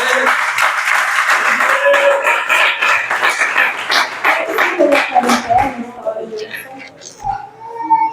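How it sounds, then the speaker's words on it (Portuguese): Church congregation clapping together for Jesus, a dense, steady run of handclaps filling the space for several seconds before thinning out, with voices talking and calling over it near the end. "As palmas são para Jesus"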